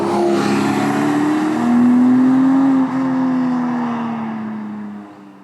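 A Porsche 718 Cayman GTS 4.0 six-cylinder engine pulls hard on a racetrack, its loud droning note climbing and holding through acceleration, then easing off and fading slowly.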